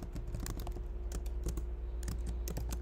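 Rapid typing on a computer keyboard while writing code, a steady run of close, crisp key clicks and clacks in irregular bursts over a constant low hum.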